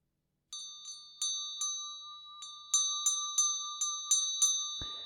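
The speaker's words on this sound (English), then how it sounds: "I'll ring bells to mark the different stages of the practice" Meditation bells struck repeatedly, about a dozen bright metallic rings in an uneven rhythm, each clear tone lingering and overlapping the next, close and fairly loud with no talk, ending in a short low thump.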